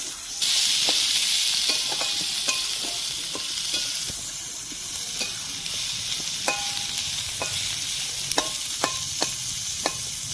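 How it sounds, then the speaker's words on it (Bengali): Chopped onion frying with garam masala in a pan for a Bengali prawn malai curry, a steady broadband sizzle with intermittent scraping and clinking of a spatula being stirred, close up and with no voices. "পেঁয়াজ কুচিটা দিয়ে দিচ্ছি। অল্প 1 মিনিটের মতো ভেজে দেব হালকা আগে।"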